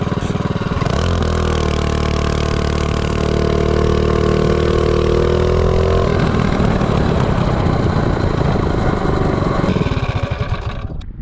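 A 212 Ghost small engine fitted with a Noram Cheetah clutch and 4.61 ratio runs loud and close, holding a steady drone, then revving up with a rising pitch before it drops back.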